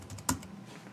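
A Bluetooth computer keyboard being typed on during a Mac Pro upgrade, heard as one sharp, close key clack between a few softer taps, with no talk.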